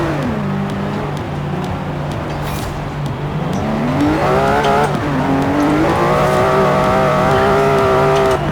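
An old Ferrari in Forza Horizon 4 drives with a loud, steady engine drone that climbs in pitch through the gears, with a constant low hum beneath and no voices.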